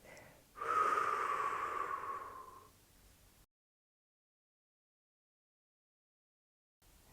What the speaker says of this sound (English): Inhale through our nose, feeling our belly fill up with air, and we'll elongate our exhale through our mouth